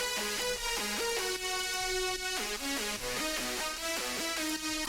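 Synth lead melody from an electronic music track, loud and continuous with stepping pitch patterns over a dense mix, several leads stacked into one bright line.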